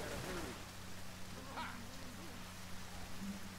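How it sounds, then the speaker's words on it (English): Rain in the video game Left 4 Dead 2, modded, patters softly and steadily at a low level while muffled voices and faint game sounds drift in and out underneath. "Oh great, it's raining now."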